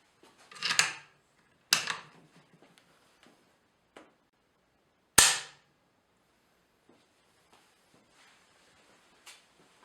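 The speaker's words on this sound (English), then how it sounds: "is a trigger that has a pretty light pull. Go ahead and show you." Dry-fire clicks from a Mosin Nagant scout rifle with a light trigger pull: three sharp, close clicks spaced a second or more apart, with faint handling noise between them in a quiet room.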